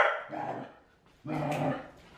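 A corgi barks and yips in two close bursts, a short cluster of barks then a louder run of barking, with a brief pause between and no other sounds.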